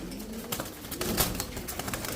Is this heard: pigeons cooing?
yes